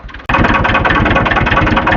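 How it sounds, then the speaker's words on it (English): A farm tractor about 35 to 40 years old idles loudly and close after a brief quiet start, a steady throbbing rumble that holds without change. "this tractor has been responsible for all the work pretty much on this farm"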